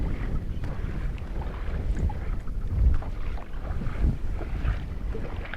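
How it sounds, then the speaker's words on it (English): Steady wind buffets the microphone while kayaking on open water at a conservation area, a constant low rushing with occasional gusts and faint water movement, no voices. "Daggum wind."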